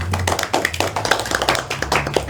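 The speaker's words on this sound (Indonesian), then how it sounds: "tepuk tangan untuk Salsabila" A small group claps for a student during a microteaching history lesson in a classroom: uneven, sharp hand claps scattered over a couple of seconds, fairly close and loud, over a low steady hum.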